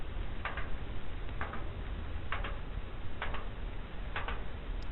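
Sperm whale slow clicks used for communication, evenly spaced, about one per second, each sharp and doubled, over a constant underwater hiss.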